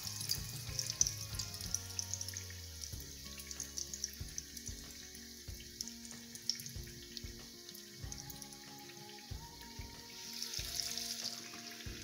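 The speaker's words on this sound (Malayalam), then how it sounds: "ബ്രെഡ് ക്രംസിൽ ഒന്ന് ഡിപ്പ് ചെയ്തിട്ട് നോക്കിയത് ഒന്ന് ഫ്രൈ ചെയ്തെടുക്കാം" Breadcrumb-coated tandoori chicken cutlet frying in oil, a steady low sizzle and bubbling that runs through the whole stretch with scattered pops and clicks, no voices.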